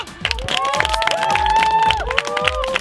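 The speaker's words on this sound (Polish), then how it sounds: "Wielkie brawa dla nich!" Audience at a one-on-one volleyball championship clapping and cheering loudly for the older age group players, with shouts and music mixed in throughout.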